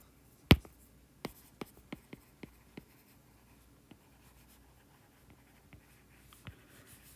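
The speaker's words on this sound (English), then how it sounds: "So let's go ahead and write that down." Pen or chalk strokes writing out Kepler's second law during a physics lesson on planetary motion: a sharp tap, then a run of about ten quick, distinct marks, close and dry, with short pauses and no talk.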